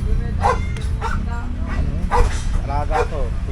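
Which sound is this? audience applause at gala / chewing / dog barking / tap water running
dog barking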